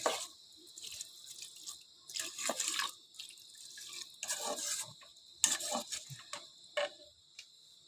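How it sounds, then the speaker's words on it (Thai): Water poured into a pot of Thai frog curry, with intermittent splashing and trickling bursts separated by short pauses, close up and fairly quiet, with no talking. "เติมน้ำเลย"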